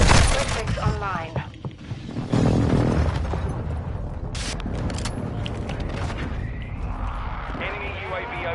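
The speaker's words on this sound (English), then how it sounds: "Friendly airstrike in the AO." Airstrike explosions in the Modern Warfare 2 video game: heavy booms and rumbling blasts with debris crackle, loud and close, mixed with voices talking throughout.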